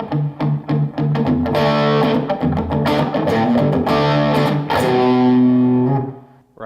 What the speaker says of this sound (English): and then you palm mute to get that crunch, right? Again, palm mute.